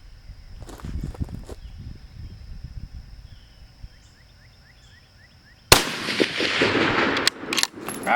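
A 6.5 Creedmoor rifle on an M40-style clone fires one sharp, loud report outdoors after quiet handling noises, followed by a ringing, noisy tail.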